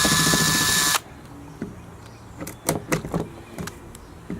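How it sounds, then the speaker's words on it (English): A drill working on the hull of a Hobie Tandem Island kayak, boring a hole at the end of a crack: a loud, steady whine for about a second, then stops, followed by scattered clicks and handling knocks. "I'm going to drill a hole at the end of the crack"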